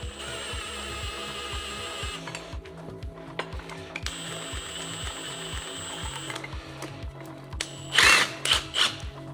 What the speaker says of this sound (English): So we've got our spring compressor tool. Obviously we need to compress the spring to be able to change it onto the new shocker.